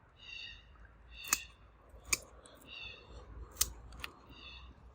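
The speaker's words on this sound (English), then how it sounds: "These are my really good 10 inch scissors." Snips from a pair of 10 inch scissors cutting harvested galangal stalks, with four sharp, fairly close cuts spaced across a few seconds over faint rustling and a quiet background.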